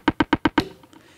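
An Elektron Digitone percussion patch called ARP, run through an arpeggiator, plays five quick, evenly spaced hits that ring briefly and then fade out.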